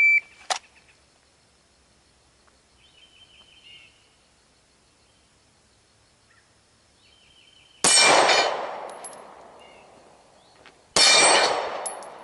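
Two loud pistol shots at a shooting practice session, a few seconds apart, each a sharp blast with a decaying ring, preceded by a brief timer beep and quiet handling noises.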